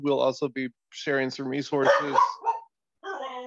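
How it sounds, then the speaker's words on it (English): A dog barks and whimpers in the background while a person keeps talking during an online meeting. "Sorry about my dog."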